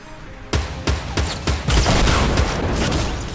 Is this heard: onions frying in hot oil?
no